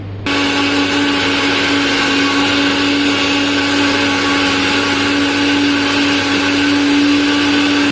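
Kitchen blender grinding onion for a tomato-onion curry base: a loud, steady motor whine that starts abruptly and runs continuously without pause.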